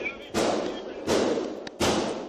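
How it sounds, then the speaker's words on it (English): Three loud, sharp gunshots from a high-powered rifle, about 0.7 seconds apart, boom through an elementary school corridor in close body-camera footage, each followed by a ringing indoor echo. "Horrific sounds of gunfire ring through Nashville's Covenant Elementary School."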